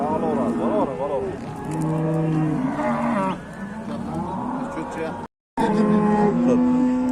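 A hybrid dairy cow moos repeatedly on a farm, long drawn-out lowing calls close by, with people talking between and over the calls.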